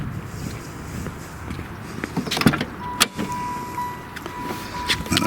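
Power top of a 1990-95 Oldsmobile Cutlass Supreme convertible lowering, a steady electric motor whir with clicks and clunks from the mechanism, close up and alone, ending with a high steady warning chime.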